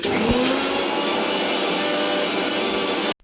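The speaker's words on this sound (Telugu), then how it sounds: "అన్నీ కలిపి అయితే ఒకసారి మిక్సీ పట్టేసుకుంటుంది" A mixer grinder whirs loudly and steadily at close range, grinding fish curry masala, a constant high motor roar that cuts off abruptly at the end.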